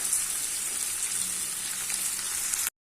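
Carrots, beans and fresh green peas sautéing in a pan, a steady close crackling sizzle with no talk, cutting off abruptly.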